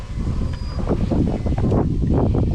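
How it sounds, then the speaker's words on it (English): Strong wind gusts across open water, buffeting the microphone with a low, rumbling roar that swells and surges continuously, loud and close, with no speech. "Boy, it is a windy day."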